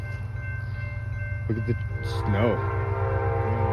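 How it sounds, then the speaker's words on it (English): Train on the tracks in Bergen, a continuous loud rumble with brief horn-like tonal bursts partway through, heard up close outdoors while people talk. "got a train"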